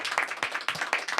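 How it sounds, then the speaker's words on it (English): A small group on a podcast set claps for kids after tasting a homemade apple crumble dessert, the sharp close hand claps arriving in uneven bursts across a short stretch. "Round of applause for the kids"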